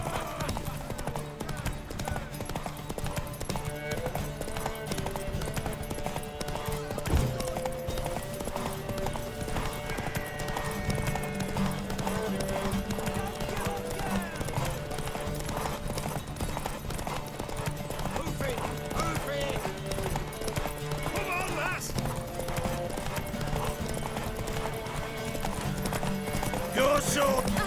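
Steady clip-clop of horse hooves with an occasional whinny from the video game The Witcher 3: Wild Hunt, layered under game music and people talking throughout.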